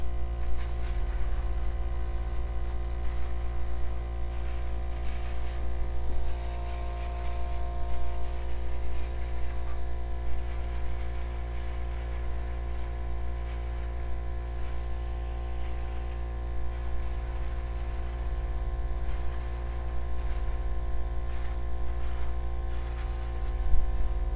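An airbrush blows a steady hiss of air across acrylic pour paint, a continuous soft spray over a constant low hum, running unbroken for the whole stretch without speech.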